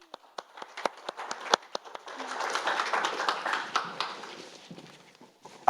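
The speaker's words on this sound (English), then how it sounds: "I think a round of applause." An audience at a launch event applauds a speaker: a few scattered, sharp claps swell into a dense, steady round of applause, then thin back out to isolated claps, with no talking over it.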